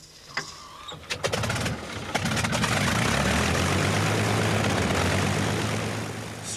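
A WWII fighter plane's engine and propeller: a few sputters and pops as it starts, then a loud, steady droning roar that holds and eases slightly at the end.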